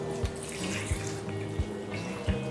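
Water pours into a bowl of broccoli and mushrooms being chilled for a dhaba-style tandoori dish, a steady close splashing stream with a few soft thuds at regular intervals.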